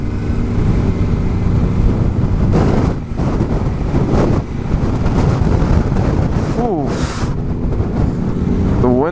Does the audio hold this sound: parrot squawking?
no